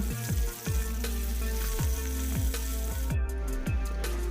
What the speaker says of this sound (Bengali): এবার দেখো আমি মাছগুলো লবণ আর হলুদ মাখিয়ে ভালোভাবে কড়া করে ভেজে নিচ্ছি।